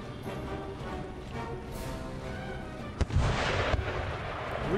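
Artillery fire in the video game Empire Total War: a steady battle rumble of distant cannon fire and gunfire, with a sharper, louder blast at three seconds followed by a dense burst of crackling shots.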